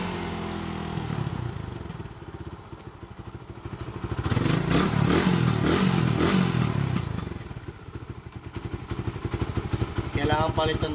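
A Suzuki Raider 150 motorcycle engine idles and revs with a misfire, lacking pull and sputtering unevenly, loud and close, with surges in throttle and rough irregular firing throughout.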